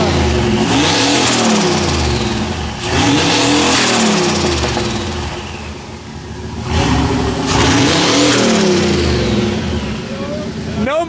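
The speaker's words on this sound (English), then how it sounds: "I have never heard a starter that pissed." Turbo LS-powered burnout truck, unrun for three years, roaring through three loud rev cycles with rising and falling pitch, settling into a rumbling idle between blips; voices talk faintly underneath.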